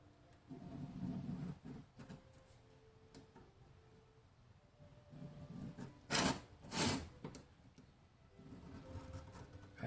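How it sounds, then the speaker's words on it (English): Locked calipers scribe a line during work on Saab 9-3 rear speakers, giving quiet scratchy rubbing and light ticks, with two louder rasping strokes near the end against a hushed background. "You see how I'm scribing with the calipers?"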